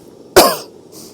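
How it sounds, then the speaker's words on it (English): A single sharp cough close to the microphone in the morning at a campsite in a tent, followed by quiet. "Sorry for coughing in your ear."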